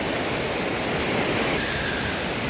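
A strong river rushes past a rock garden with a water cascade in a park in Nepal, a loud, steady broadband roar of churning water filling the whole clip without a break.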